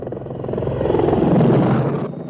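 Loud, close helicopter with a steady throbbing rotor chop and a high turbine whine that swell to a peak and then fade, with no voices.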